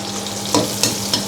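Chili and garlic frying in a pan over medium heat, a close, steady sizzle broken by three quick stirring scrapes at even intervals, with no talking.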